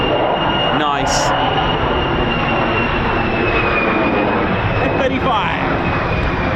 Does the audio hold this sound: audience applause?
no